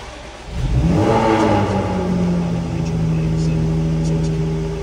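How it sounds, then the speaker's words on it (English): A Jaguar F-Type 400 Sport's supercharged V6 fires up close by, surging into a loud rev before settling into a steady, high idle with a rising whine. "we'll start up the supercharged V6 so that we can see everything alive."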